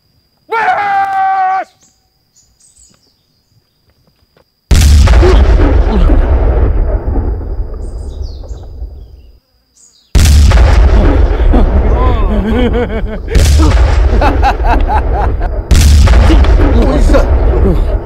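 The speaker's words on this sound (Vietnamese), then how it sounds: "Chú, cho anh em nó bắn đại bác đi." Cannons fire repeatedly in a comedy sketch, heavy booms landing one after another with long rumbling decays, preceded by a short shouted voice.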